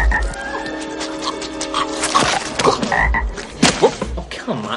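Deep croaking frog in an animated film, several throaty croaks among music and other sounds, loud and close.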